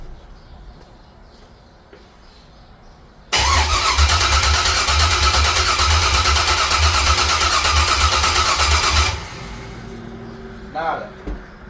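An LS-swapped station wagon with a Gen 4 V8 on a freshly flashed tune cranks loudly for several seconds in a steady churning run, then cuts off, with the car quieter before and after.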